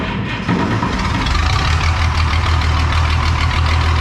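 A red 1850 tractor engine running with no muffler starts after a brief scrape, then settles into a loud, close, raw low-pitched idle with a steady rapid chugging pulse.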